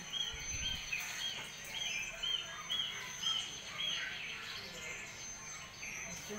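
Small birds chirp in short repeated high tweets, fairly faint and distant, over steady outdoor background noise in a mountain area of Tuyen Quang, Vietnam.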